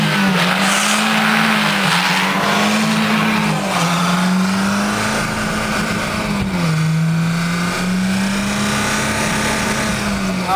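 Opel car spinning its wheels on ice, a loud sustained engine drone rising and falling in pitch with long tire squeal and skidding noise throughout, close and continuous.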